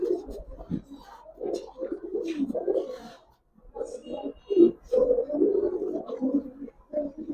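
Giribaz and racer pigeons coo close by in a series of soft, throaty, rolling calls with a brief pause midway before the cooing resumes and overlaps.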